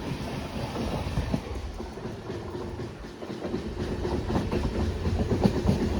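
The Mysuru to Mantralayam Express running along the track, a loud, continuous rumble with rhythmic clickety-clack of the wheels building slightly toward the end, heard up close and with no talking.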